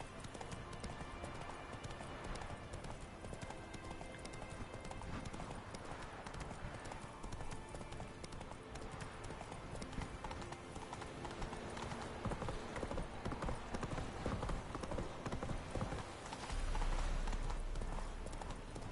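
Roach, Geralt's horse in The Witcher video game, gallops with steady, rhythmic clip-clop hoofbeats over a dense bed of game music and ambience, continuing throughout at a fairly loud, close level.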